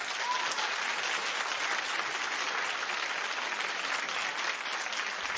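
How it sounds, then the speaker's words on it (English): Studio audience on a daytime talk show clapping, a continuous, even wash of applause at moderate level throughout with no talk over it. "Clap if you think she looks terrific."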